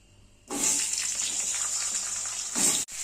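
Potatoes land in hot mustard oil already tempered with cumin, dried chilli and bay leaf, setting off a sudden bright, steady sizzle that carries on loud and close for about two seconds.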